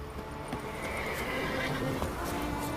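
Roach, Geralt's horse in The Witcher 3 video game, whinnies clearly over a steady ambient bed, with faint hoof clops and movement sounds around it.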